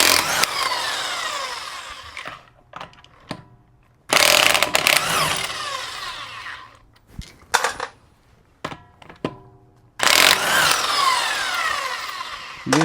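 A power tool spins lug nuts off the wheels of a 2006 Honda Pilot in several loud, harsh bursts of a few seconds each, separated by quieter gaps with small clanks, heard up close.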